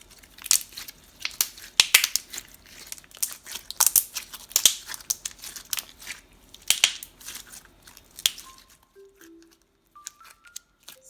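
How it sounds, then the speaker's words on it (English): Slime poked and squeezed up close, a dense run of crisp clicks, pops and crackles for about eight seconds, then a few faint tonal beeps. "The slime has great poke and click and some good ASMR."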